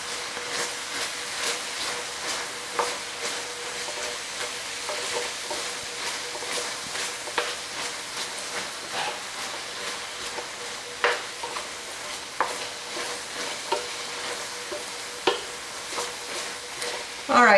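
Spices (allspice, thyme, brown sugar) being stirred into beef in a pot for carbonnade à la flamande, with a steady sizzle and repeated scraping stirs at close range, no talking.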